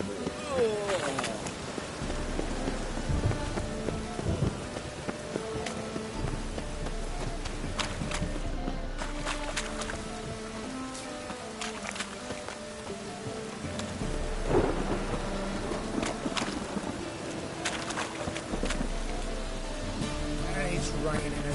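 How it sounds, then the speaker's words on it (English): Steady rain patters throughout while low thunder rumbles roll in and out, with other game sounds and voices scattered over the storm in The Witcher 3: Wild Hunt. "It's raining again."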